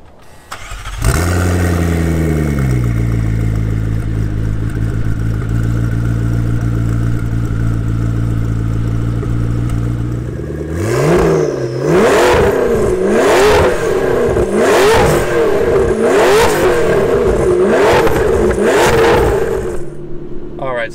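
A 2012 McLaren MP4-12C supercar with a stage 2 ECU tune and upgraded downpipes, making 725 horsepower: the engine starts and settles into a loud idle, then rises and falls in a series of sharp, aggressive revs.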